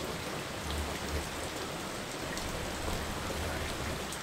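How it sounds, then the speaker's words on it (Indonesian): Heavy rain pours down in a village in the middle of the day, a dense, even hiss of drops striking surfaces close by with no voices. "Hujannya cukup deras,"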